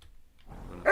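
A dog in the video game Kingdom Come Deliverance 2 gives a single short, sharp bark close by, after a near-silent moment.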